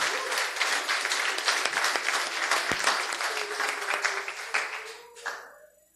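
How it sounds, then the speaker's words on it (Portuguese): A church congregation bursts into sustained applause, dense clapping from many hands that holds steady and then tapers off near the end, with a brief voice rising as it fades. "Uma salva de palmas para Jesus Cristo."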